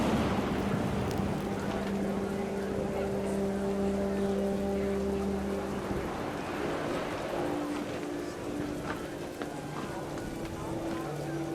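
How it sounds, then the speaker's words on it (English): Heavy rain pours down in the video game What Remains of Edith Finch: a dense, constant hiss of falling water with soft sustained musical tones beneath it. "The rain came down in buckets then"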